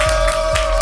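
Dense crowd cheering and applause at a B2B DJ set in the Netherlands, a loud continuous roar filling the room.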